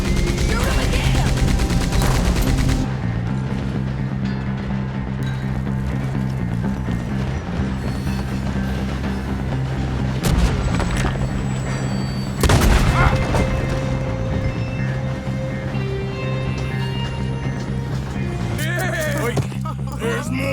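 Gunfire in the Western video game Red Dead Redemption during a chase on horseback, with rapid rifle and pistol shots and booms crackling steadily over a loud running score while voices shout orders.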